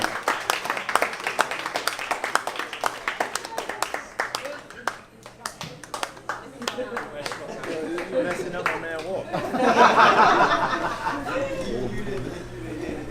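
A crowd applauds at a Christmas party awards ceremony, with dense sustained clapping that thins and fades, followed by chatter and some laughter.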